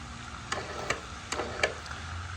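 An Ultrashield hurricane screen motor jogging gives four sharp, separate clicks spaced under half a second apart. They stand alone over a faint, steady low background.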